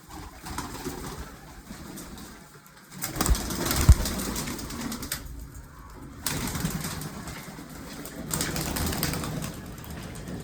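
Pigeons return to the loft, with bursts of wing flapping and clattering landings among soft cooing, loud close flurries alternating with quieter gaps.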